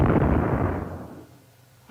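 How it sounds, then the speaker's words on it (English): Single deep boom of an ancient cannon firing in Doctor Who, a loud blast that rolls off and decays over about a second, followed by a faint short sound near the end. "It sounded more like an ancient cannon."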